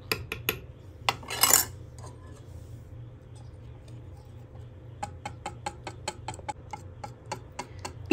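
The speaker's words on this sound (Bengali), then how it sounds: "তো এখন আমি এটাকে একটু হুইস্ক দিয়ে ঘুরিয়ে নেব।" A hand whisk clicks and taps against a bowl of pitha batter made with date jaggery and milk, a loose series of sharp metallic ticks that becomes a quicker, regular run of strokes toward the end.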